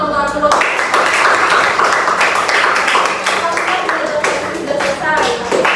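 Classroom students clapping for a classmate during a teaching-practice lesson, a short burst of brisk claps with children's voices chattering over and around it, close and loud throughout.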